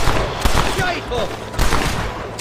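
Rapid rifle gunfire from the Red Dead Redemption video game, a loud burst of sharp shots with a few more cracks later, mixed with game action and a voice shouting over it.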